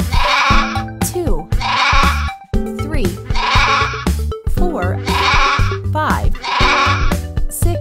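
Sheep bleating in a preschool math app, several bleats in a steady repeating rhythm over upbeat music, loud and close, with a narrator speaking between the calls.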